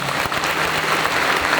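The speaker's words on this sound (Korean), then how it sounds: "인사할 때 큰 박수 맞아 주십시오." Loud, close applause from wedding-style guests at a pastor ordination ceremony, dense and continuous throughout with no speech over it.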